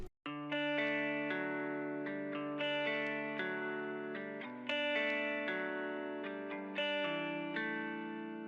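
A bright, effects-laden guitar melody for a hyperpop-glitchcore track loops steadily with shimmering chorus and echo, lows cut by EQ, notes ringing out in repeating phrases with no voices.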